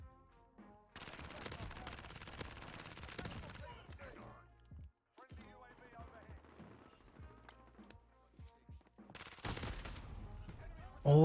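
Video game gunfire from a shotgun and an RPG, loud bursts of rapid shots and blasts broken by brief silences, with scattered sharp impacts between them.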